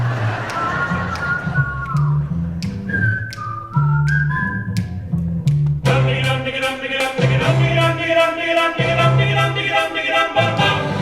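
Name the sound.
person whistling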